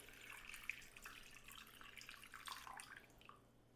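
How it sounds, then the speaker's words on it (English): Water is poured into a microwave-safe dish, a faint, steady splashing trickle with small drips lasting a few seconds before fading, no one speaking over it. "I'm going to pour my water"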